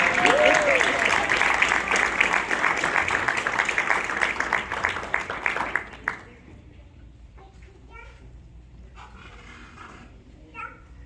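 School audience applauds a Safety Patrol member, with loud close clapping and some cheering that stops abruptly partway through, leaving a quiet room with faint voices.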